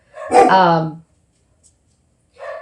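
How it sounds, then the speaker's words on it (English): Several dogs indoors bark at a neighbor arriving home after a door shuts, one loud burst of barking followed by a shorter, quieter bark after a pause. "The neighbor came home and the door shut, so they're barking at the neighbor."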